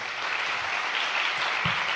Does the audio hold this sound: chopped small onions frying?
no